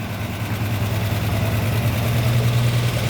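A 1965 Ford Mustang engine idles steadily up close, a low, rough, continuous rumble with a slight throb and no talking over it.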